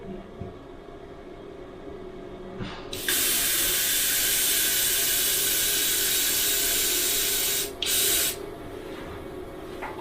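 Sagola XTECH 400 airbrush spraying FW ink in a quick, loud hiss of about five seconds, with a brief second burst shortly after, over faint background hum.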